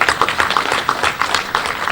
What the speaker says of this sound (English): But we give Minister of Foreign Affairs a round of applause.